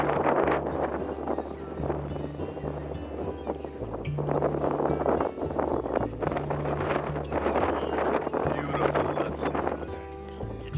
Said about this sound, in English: The wind's way too crazy to put a tent up